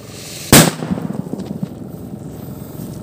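A homemade striker firecracker goes off outdoors with a single sharp, loud bang. A short rumbling tail follows it.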